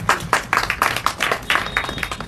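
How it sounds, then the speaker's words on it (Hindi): Audience clapping at a women's welfare committee event where a hardworking woman is being honoured: a dense run of sharp claps from a crowd, steady and fairly close throughout. "तो इसके लिए ये जोरदार ताली।"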